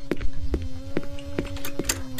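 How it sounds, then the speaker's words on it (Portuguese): A wasp in the horror game Imscared buzzes close by in repeated short bursts, a droning hum with regular pulses about twice a second, loud and near with no voices over it. "Essa vespa zumbindo na minha orelha"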